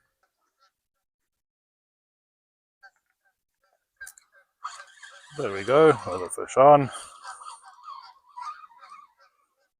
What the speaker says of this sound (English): So have some geese going overhead.